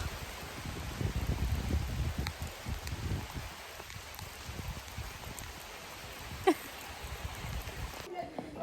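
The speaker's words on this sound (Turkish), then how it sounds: "Gitmeden şöyle bir ıslanalım yağmurda. Bayağı yağıyor ama." Heavy rain falling in a rural village, a soft, constant patter and hiss with scattered drops, low and fairly distant, broken by a brief sharp knock near the end.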